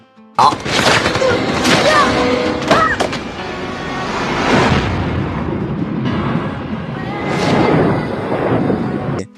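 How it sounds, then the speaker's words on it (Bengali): Film battle scene with bursts of gunfire and heavy booming explosions all around, loud and layered with rumbling impacts and debris, alongside a voice narrating over it. "হঠাৎ চারিদিকে গুলি চলার আওয়াজ শুরু করলো"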